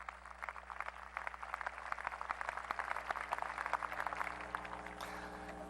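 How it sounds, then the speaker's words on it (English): An audience at a 2007 Alabama gubernatorial inaugural address breaks into applause, a steady patter of many hands clapping at moderate distance under a faint electrical hum, lasting several seconds. "All of you, go ahead, give them a round of applause,"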